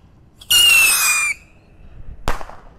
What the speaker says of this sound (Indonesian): di sini ada roket Pirotor. Kita nyalakan ya. Siap meluncur